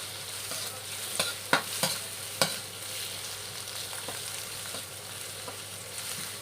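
Curry chili paste with garlic and chilies stir-fried in a pan, a continuous sizzle broken by several sharp scraping clicks from the spatula, louder early on.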